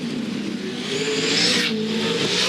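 A V8 Supercar screams past at high revs through turn 1 at Townsville, its engine note shifting as it brakes hard for turn 2; continuous and loud, with no talking.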